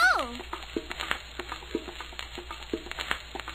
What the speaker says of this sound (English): Buffy's frying it on the stove!